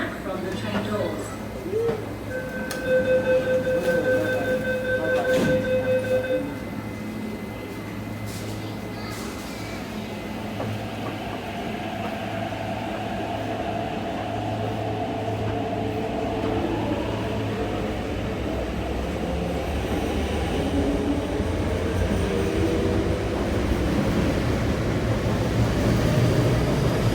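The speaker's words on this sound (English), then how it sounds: "前往金鐘的列車即將到達" A train pulls into Fanling Station in Hong Kong, a steady rumble and rush of wheels building and holding, with a brief tonal chime early on and a platform announcement voice over it.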